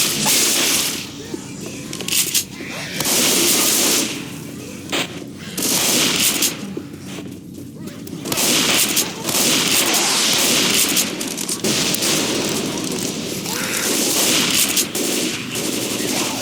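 Rapid automatic gunfire cuts down zombies in Left 4 Dead 2, loud, dense bursts of shots rattling almost continuously with brief pauses, while faint voices sit beneath the shooting.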